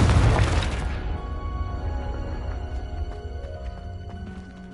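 A Confringo fire spell from the Hogwarts Legacy video game bursts in one loud, booming explosion, then trails off into a long ringing decay of tonal shimmer and debris.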